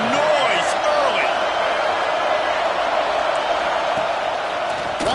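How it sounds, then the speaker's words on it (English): A large stadium crowd roars in a constant wash of noise, with scattered whoops and whistles rising above it. "This crowd bringing the energy and noise early."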